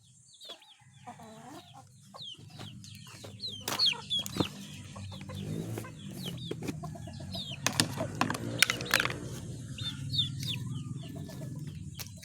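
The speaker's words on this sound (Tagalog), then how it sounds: "Diyan po yung ating mga manok na babae." Hens on a farm cluck and chatter in overlapping bursts, with chicks peeping faintly in the background, moderately close and growing busier as the flock grows more active.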